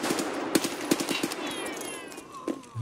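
AKS-74 rifle gunfire in the video game Escape From Tarkov: a few sharp shots spaced irregularly over a steady, busy background, fairly close and moderately loud.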